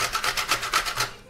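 Dry coconut is grated by hand with a rhythmic series of about six raspy scraping strokes, close and fairly quiet, each stroke a short burst of dry friction.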